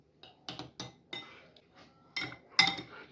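Spoon stirring a sugar and yeast mixture in a bowl for croissant dough: a series of light, close metallic clinks and scrapes against the bowl, spaced irregularly, ending on a brighter ringing tap.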